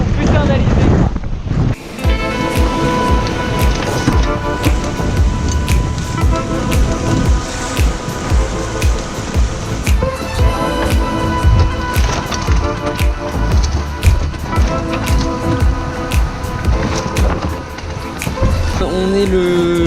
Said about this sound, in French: On a 30 nœuds encore là. Le vent vient de la droite mais ça souffle encore.